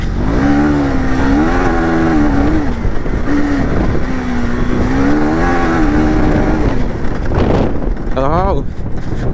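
A KTM motorcycle rides offroad on a dirt road at an adventure riding event, its engine droning steadily with wavering pitch and wind buffeting the microphone throughout, with a sharp rev rising near the end.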